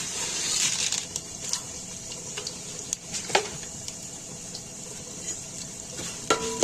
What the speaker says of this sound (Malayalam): ഇതെല്ലാം ലോ ഫ്ലെയിമിൽ വെച്ചിട്ട് ചെറുതായി ഫ്രൈ ചെയ്തെടുക്കാം.